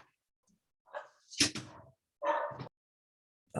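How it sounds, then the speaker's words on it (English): An aggressive dog lets out a few short, sharp barks and yips in separate bursts, fairly close and loud against an otherwise quiet background. "that's Mark's aggressive dog."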